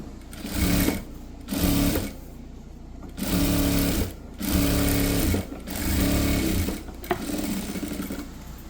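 A sewing machine stitches the folded hem of a full-sleeve shirt. It runs in about six loud, buzzing bursts of a second or so, separated by short pauses.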